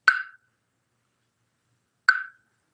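Two hollow wooden knocks, about two seconds apart, each short and resonant with a quick decay into silence.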